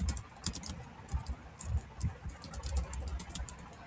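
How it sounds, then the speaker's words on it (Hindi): Rapid, steady typing on a computer keyboard while working in MS Word, with close, crisp key clicks in an uneven patter and no talking. "तो हम स्टार्ट करता हूँ टाइप करने का।"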